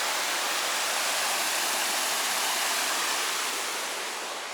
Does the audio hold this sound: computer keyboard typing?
no